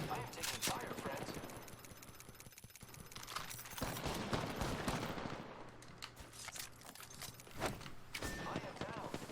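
Gunfire in a video game, rapid bursts of shots crackling continuously through the whole stretch at a steady, fairly loud level, with a voice talking over the shooting at times.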